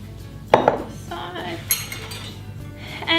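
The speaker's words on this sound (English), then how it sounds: "we simply pour our wet ingredients into the dry cookie mix. Again, using the spatula to make sure we get it all out." Wet ingredients go into a bowl of dry biscuit mix for low-carb ANZAC biscuits as a spatula scrapes the container, giving a couple of close clinks and knocks followed by softer scraping and a final clink.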